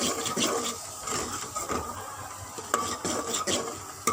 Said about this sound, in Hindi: ये कवर करके बीच बीच में आहिस्ता आहिस्ता चम्मच चलाते रहें।